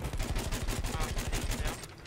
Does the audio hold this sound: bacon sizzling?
no